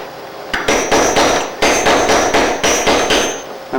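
Repeated sharp hammer strikes on a steel socket with a steep edge, flaring the end of a metal tube for molded wings; about a dozen evenly spaced, loud ringing blows close by, with no talking.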